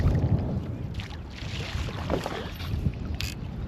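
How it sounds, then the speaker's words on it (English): Strong, atrocious wind blows across a riverside fishing spot, a steady broadband rush with gusty swells and microphone buffeting throughout, no voices. "the wind is absolutely atrocious"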